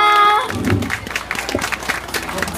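Audience clapping at an outdoor summer festival stage in Japan, a dense patter of hands starting after a held musical note and continuing steadily with some voices mixed in.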